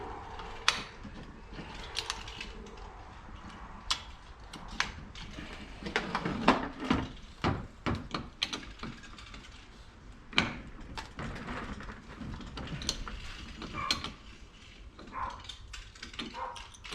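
A tool tightening an IAT sensor fitting during a Holley Terminator install gives irregular metallic ratcheting clicks and scraping, close and moderately quiet, with brief bursts clustered mid-way and no speech.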